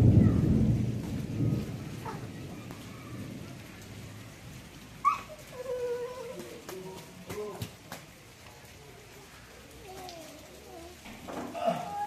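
Steady rain pours outdoors with rolling thunder rumbling in the background, a dog barking now and then and faint voices scattered through the downpour.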